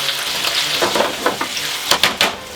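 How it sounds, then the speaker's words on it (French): Tomatoes sizzle and fry in a pan of garlic oil, a steady close crackle broken by a few louder spits and stirring clatters near the end. "Après 40 secondes, les tomates dans la poêle."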